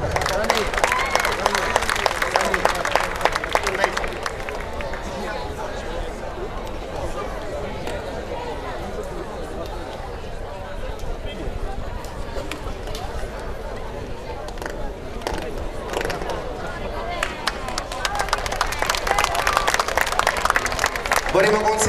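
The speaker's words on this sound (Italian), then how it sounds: "Un applauso." Crowd applause during an award presentation at an amateur boxing gala in Italy, loud bursts of clapping at the start and end with a lull of murmuring chatter and voices in between, filling a large hall.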